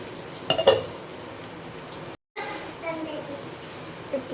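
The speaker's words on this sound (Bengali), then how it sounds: "5 মিনিট আমি লো আঁচে রান্না করে নেব।" Eggplant and fish oil curry cooks on low heat in a pan with a soft, steady sizzle, a few stirring clinks near the start, and faint children's voices in the background.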